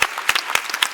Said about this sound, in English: Can we applaud this?